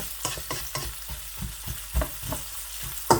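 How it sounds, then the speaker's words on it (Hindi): Onions frying in oil in a pan for chicken jalfrezi, with a steady close sizzle and repeated stirring scrapes at a regular rhythm. "उसी ऑयल में प्याज को इस तरीके से आप ऐड कर दें,"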